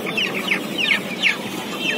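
Chickens at a poultry market cluck and squawk in short, repeated bursts, close by and fairly clear over a low murmur of market background noise.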